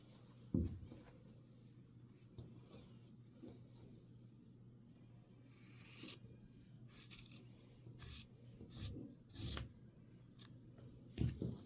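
Scissors cutting quilt fabric between two rows of stitching, faint close snips and rustling scattered across a quiet room with a steady low hum beneath.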